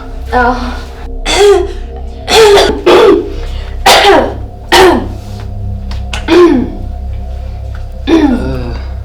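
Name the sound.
coughing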